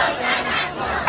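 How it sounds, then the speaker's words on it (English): Hundreds of people in Iran cheer in support of the armed forces, a dense, loud roar of many voices shouting together, close and continuous for a brief moment. "Hundreds of people cheering in support of the armed forces"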